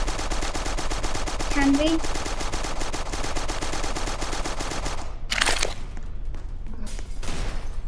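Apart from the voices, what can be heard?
drum gun firing in the Roblox video game Strucid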